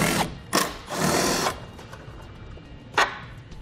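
Power tool removing the 10mm taillight bolts on a 2012 Jeep Liberty, short whirring bursts with a longer run in the middle and a final quick spin, close and loud with no talking.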